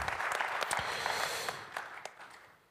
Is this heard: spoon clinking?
no